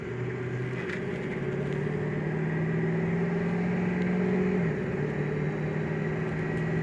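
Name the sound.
2005 Ford Excursion engine and turbo while driving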